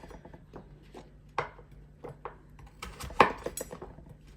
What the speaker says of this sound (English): I am just slicing up my 2 scallions. All I'm doing is just finely chopping the garlic